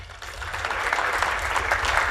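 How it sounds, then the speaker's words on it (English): A seated audience at a business meeting on forex in Ghana claps steadily and evenly for the Governor of the Bank of Ghana, a dense, continuous round of applause with no talking over it. "Another round of applause for the Governor of the Bank of Ghana."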